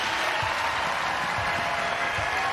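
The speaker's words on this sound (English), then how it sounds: "And the crowd rises." Big arena crowd roaring and applauding at a UConn women's basketball semifinal against Marquette at Mohegan Sun, a steady, loud wash of cheering with scattered claps through the whole stretch.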